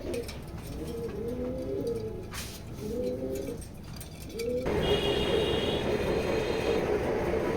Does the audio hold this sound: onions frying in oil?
no